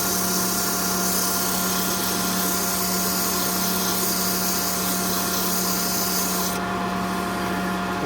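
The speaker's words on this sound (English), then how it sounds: "I don't sand the ends very much, just a little bit." Sandpaper of 240 grit rubbing steadily along a wooden skipping rope handle, a continuous close hiss with no pauses or talk, easing slightly near the end.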